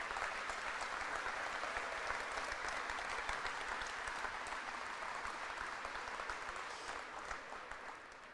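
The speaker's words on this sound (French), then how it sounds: "Alors, une main d'applaudissement pour les employés de Jiffy." A crowd applauds steadily and warmly at an investment announcement at the Jiffy plant, the clapping holding for several seconds before tapering off slightly at the end.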